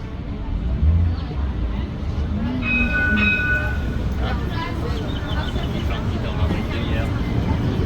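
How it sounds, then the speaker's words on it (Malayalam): A metro train in Israel arrives at the platform with a steady rolling rumble and a few brief high squealing tones partway through, faint voices murmuring in the background. "അങ്ങനെ മെട്രോ ട്രെയിൻ എത്തി."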